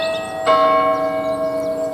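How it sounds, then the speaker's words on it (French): Local church bells ring out with one clear strike about halfway through, leaving rich sustained tones that hang and slowly fade, loud and alone with no talking. "Et avec les cloches d'ici qui nous le rappellent"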